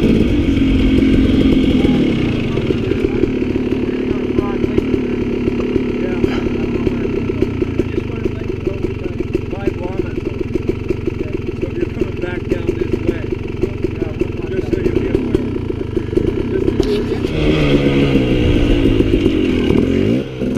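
Dirt bike engine running steadily and loud up close on a trail, a continuous rough drone with a revving shift near the end, people talking over it.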